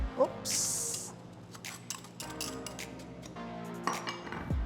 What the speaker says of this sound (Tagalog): In your bowl, mix all your dry ingredients, flour, brown sugar